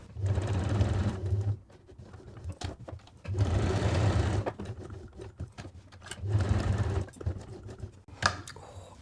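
A sewing machine stitches fabric for a zipped make-up bag in three bursts of rapid mechanical whirring, separated by short pauses with faint clicks and handling noises.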